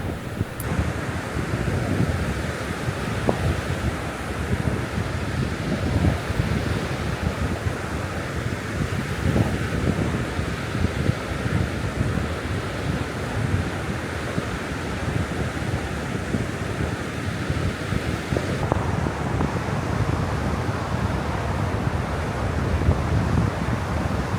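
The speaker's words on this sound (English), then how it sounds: "So it was a breezy night. I stayed here right at Lake Michigan" Strong wind buffets the microphone on a breezy night at the Lake Michigan shore, with waves surging steadily underneath, loud and unbroken for the whole stretch.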